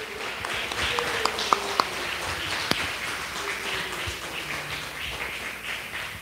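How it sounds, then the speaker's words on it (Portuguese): A church congregation at a home worship service applauds in steady, moderate clapping throughout, with a few sharper taps standing out and faint voices underneath. "Pode aplaudir ao Senhor."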